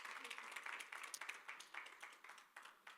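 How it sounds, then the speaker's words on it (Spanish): Applause in a church congregation for first-time visitors, a steady run of many hands clapping at moderate volume with slight pulses, fairly close and without talk over it. "Denle un aplauso fuerte."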